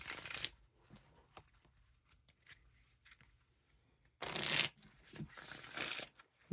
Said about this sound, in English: And they still got a pretty nice and smooth Riffle Shuffle.